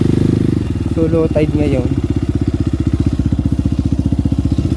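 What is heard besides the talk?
motorcycle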